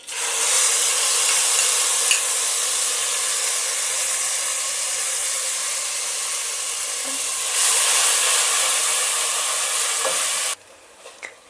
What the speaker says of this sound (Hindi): अब इस पेस्ट को हमें भूनना है इस तेल में पहले